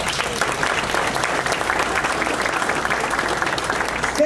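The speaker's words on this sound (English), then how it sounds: "So please give yourself a round of applause." An audience applauds steadily at a city State of the City address, a dense, sustained clapping from a crowd heard fairly close with little else over it.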